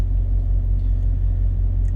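Steady low engine and road rumble from a truck cruising down a highway, a continuous drone with no breaks and no voices.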